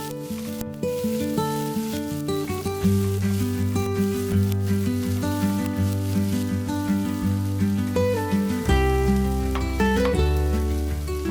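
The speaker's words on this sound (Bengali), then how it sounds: "এবার পেঁয়াজ কুচো আর লঙ্কা কুচোগুলো নেড়ে চেড়ে ভেজে নিচ্ছি।" Chopped onion and green chili stirred and frying in a pan for stuffed red lentil chilla, a continuous sizzle running under loud, steady background music.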